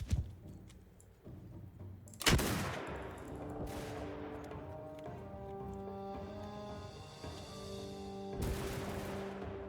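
Troops firing ranged weapons in a battle in the samurai game Shokuho, a scatter of distant cracks with two loud close shots standing out against a steady battlefield din, no voices.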